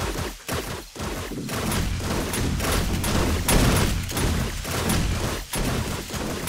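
Gunfire in the survival game 7 Days to Die, a dense, sustained fusillade of loud shots with brief gaps, close and dominant throughout.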